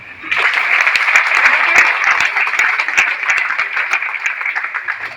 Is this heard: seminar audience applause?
yes